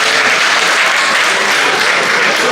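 An audience at a French conference session applauds, dense steady clapping heard alone throughout.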